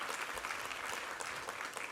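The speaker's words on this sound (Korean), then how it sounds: "우리 하나님께 감사와 영광의 박수 올려드리겠습니다." Church congregation applauding during a Sunday worship service, a dense, continuous wash of many hands clapping at once, steady and moderately loud with no voices on top.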